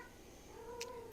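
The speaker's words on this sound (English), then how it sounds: "it's our very talkative Calico screaming for our other cat" A calico house cat yowls loudly for another cat, a single drawn-out cry rising near the end of the clip over a quiet indoor background.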